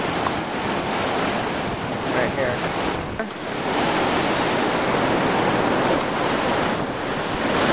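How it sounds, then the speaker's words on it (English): Ocean waves rushing in over the rocks at Laguna Beach, a loud continuous roar of surf with wind buffeting the microphone; a voice speaks briefly partway through. "you can see how the water rushes in."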